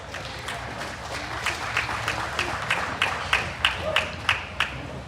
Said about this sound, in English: give those Poland exhibitors a nice round of applause